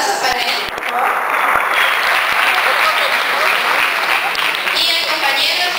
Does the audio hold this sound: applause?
yes